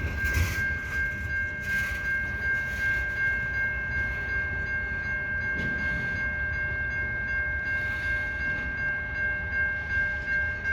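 A short CN transfer freight train rolls slowly past the Des Courcelles Street crossing in Montreal, its steady rumble continuous and close, with a sustained crossing-bell tone ringing over it throughout.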